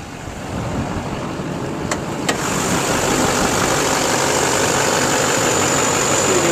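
A Chevrolet K2500 crew cab long box pickup with a Duramax diesel engine, started on a cold day, idles with a steady, even rumble after a couple of brief clicks, settling into a constant drone.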